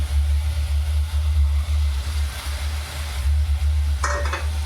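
Onions with fresh tomato paste being stirred in a pan over high gas heat, a steady close sizzle over a low rumbling hum, with a brief scrape of the spoon near the end.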